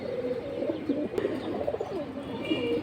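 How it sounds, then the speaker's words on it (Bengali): Giribaz pigeons coo together in a flock, overlapping soft rolling coos layered densely and continuously at close range, with a faint click partway through. "এখানে দেখুন আরেকটা গিরিবাজ জোড়া চলে আসলো"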